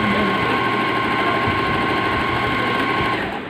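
An Usha Janome Wonder Stitch Plus automatic sewing machine stitches continuously with a steady, close, whirring hum and fine rapid needle chatter that eases off at the end.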